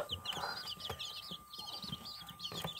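Young chicks with tail feathers coming in: quick, high, repeated peeps and chirps in a steady stream, close but fairly quiet, with faint soft clucks and a few light thumps underneath.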